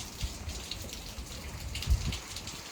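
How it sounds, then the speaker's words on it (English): Heavy rain falls steadily outdoors at a horse dressage event, a dense constant hiss of drops with a few louder splashes and low rumbling, and no voices. "It wasn't supposed to be raining like this today."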